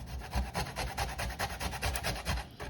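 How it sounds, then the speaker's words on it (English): Lime skin is grated for zest in a rapid, close rasping rhythm of short scraping strokes, quiet and steady with no talking. "we're going to grate a little bit of the skin"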